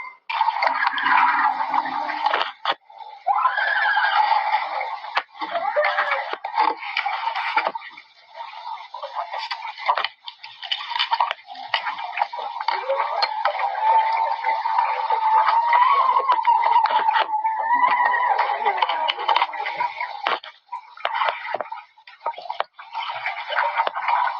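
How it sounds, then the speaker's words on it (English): Eerie, scream-like wavering tones surround a diver underwater off Florida, rising and falling in long, drawn-out wails over a steady watery hiss, continuous and fairly loud throughout with no talking. "What sounds like tormented underwater screams for help can be heard coming from all around her"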